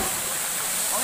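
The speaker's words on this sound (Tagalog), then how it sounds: "Welcome to Bulinaw Falls" Bolinao Falls waterfall in Pangasinan, a steady, loud broadband rush of falling water filling the whole short moment, close and constant, with voices nearby.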